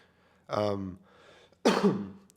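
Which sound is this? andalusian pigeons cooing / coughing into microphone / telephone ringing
coughing into microphone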